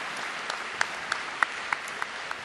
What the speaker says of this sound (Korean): 다시 한번 뜨거운 박수로 선수 대표를 대표한 선수들의 선서를